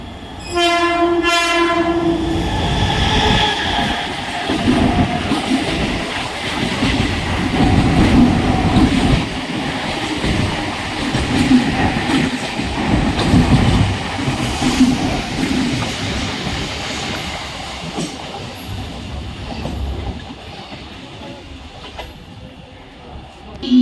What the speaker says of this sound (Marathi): local arrived on platform number 1